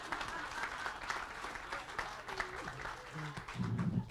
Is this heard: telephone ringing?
no